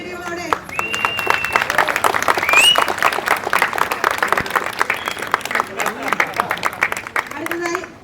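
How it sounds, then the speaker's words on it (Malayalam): A large crowd at a Malayalam film event applauds loudly and continuously, dense clapping filling the hall, while amplified speech and crowd chatter carry over the top. "എല്ലാവർക്കും നിറഞ്ഞ കൈയടികളോടെ"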